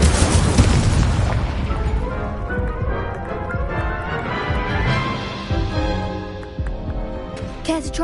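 A fire spell cast in Hogwarts Legacy on PS5 bursts into a loud booming explosion, followed by crackling, rumbling debris and scattered game effects that fade over several seconds.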